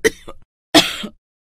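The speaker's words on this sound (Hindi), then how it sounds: "माँ की खांसी तो बढ़ती जा रही है" A woman coughs in a Hindi family drama, two separate harsh bursts close to the mic, the second longer and rougher, with silence between them.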